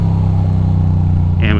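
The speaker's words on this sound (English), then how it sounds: "now this guy is speeding up. I guess he decided to drive." A car engine on a Brooklyn street gives a close, steady low drone throughout, with a short higher-pitched sound near the end; no clear rise in pitch marks the speed-up.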